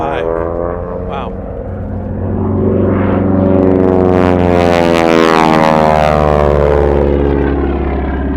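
Grumman Bearcat propeller airplane making a low pass at an air show, a loud droning engine that swells and shifts pitch as it sweeps by, close and powerful.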